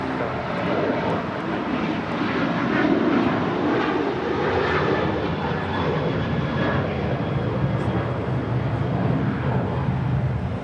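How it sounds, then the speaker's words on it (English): An Alaska Horizon Embraer E175 regional jet arriving at Los Angeles airport from San Jose, its engines giving a steady, broad, close rumble and roar that holds level throughout, with no voices. "As Alaska Horizon 2168 coming in from San Jose"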